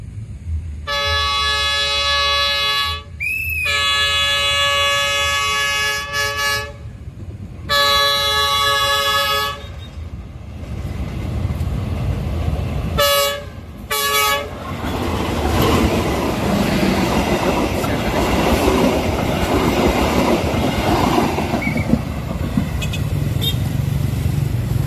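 The four-car Siantar Express passes near Lubuk Pakam station, sounding several long, loud, multi-tone horn blasts with brief gaps before its wheels rumble and clatter by close up, growing steadily through the second half.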